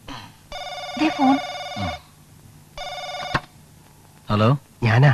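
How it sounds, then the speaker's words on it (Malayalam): A telephone in a home at night in a Malayalam film rings in two clear bursts of electronic bell trills, with people talking between and after the rings. "Sunny, Sunny, they phone."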